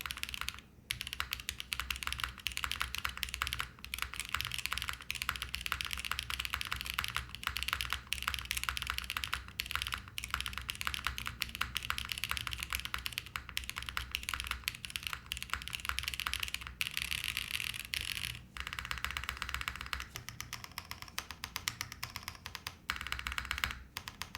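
Continuous rapid clacking of keys on a mechanical keyboard, a Cloudline build, close and steady, with brief pauses between bursts of typing.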